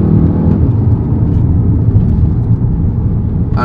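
Audi TTS with a 310-horsepower engine rumbles loudly and steadily up close, a deep continuous engine drone holding for several seconds without clear rev peaks.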